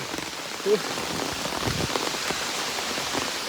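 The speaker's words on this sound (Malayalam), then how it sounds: "അയ്യോ നല്ല മഴ പെയ്യുന്നേ" Heavy monsoon rain pours down in a dense, unbroken hiss as drops pelt surfaces all around.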